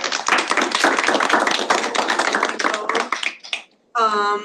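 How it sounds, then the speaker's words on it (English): An audience at a student government meeting applauds two student senators with a dense, steady round of clapping that fades out, followed by a single voice. "Let's clap for our two senators."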